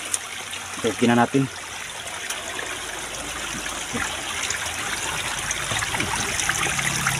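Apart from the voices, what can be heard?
water flowing in a stream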